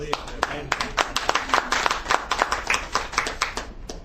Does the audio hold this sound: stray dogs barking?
no